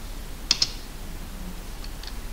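A few quick keystrokes on a computer keyboard while entering a command in a terminal, close and isolated, with a short burst of clicks followed by scattered lighter taps.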